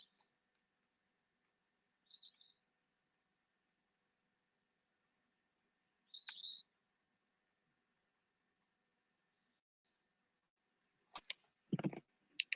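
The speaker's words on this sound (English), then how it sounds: "So you guys heard the birds?" A few short, high bird chirps come in sparse bursts against near silence, faint and distant, followed by some clicks and a low thump.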